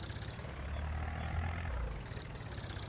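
A tractor in Farming Simulator 22 idles steadily with a low, rumbling drone that stays even and continuous, with no talk over it.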